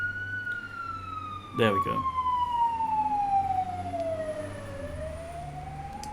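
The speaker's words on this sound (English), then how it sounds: "Sorry, there's a siren." A fire truck siren wails outside, a single long tone sliding slowly downward as it passes and then rising again, heard over a low background hum, with a brief spoken remark in the room partway through.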